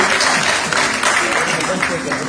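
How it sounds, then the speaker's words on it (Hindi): A crowd at an awards ceremony claps in a steady wash of applause, moderately loud and continuous, with voices mixed faintly into the noise. "उनके लिए जोरदार तालियां"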